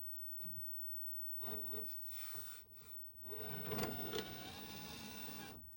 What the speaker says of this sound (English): With this DVD player, it does open and close.